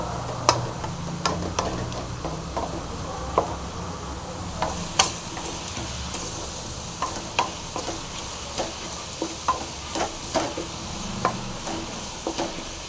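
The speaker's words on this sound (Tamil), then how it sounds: "வெங்காயம் ஓரளவுக்கு நல்லா வதங்கிடுச்சு இன்னும் ஒரு அஞ்சு நிமிஷம் நல்லா வதங்கணும்" Onions sautéing in a pan for dry fish gravy crackle and sizzle steadily up close, with many sharp little pops and taps of stirring scattered across the whole stretch, no voices.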